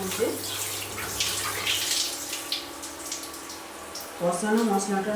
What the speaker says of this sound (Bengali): এইবার আমি হাফটা ধুয়ে চালটা ধুয়ে নেব